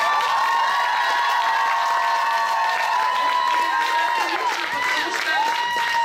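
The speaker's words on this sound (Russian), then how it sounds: "как будут звучать аплодисменты" Applause from a filling hall at a children's camp contest, a steady wash of clapping with faint crowd noise, while a bright sustained musical tone rings loudly over it.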